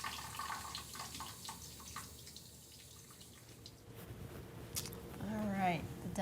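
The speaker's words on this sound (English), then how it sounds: "Repeat the cleaning and rinsing process with the other denture if the patient has one." Tap water running into a sink while dentures are rinsed, a soft steady splash with drips and squishy handling sounds, faint and close, with a voice speaking over it toward the end.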